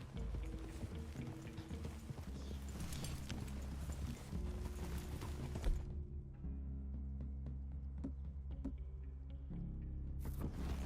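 Steady clip-clop of horse hooves at a walking pace in the video game Red Dead Redemption 2, over a layered musical backdrop, the footfalls continuing throughout at moderate loudness.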